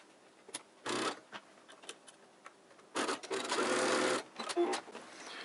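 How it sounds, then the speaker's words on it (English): Sewing machine stitching across the folded ends of a fabric face mask, two short whirring runs, the second longer, with scattered clicks and fabric handling between them. "you're going to fold over a lip on the very end, and you're going to stitch across that"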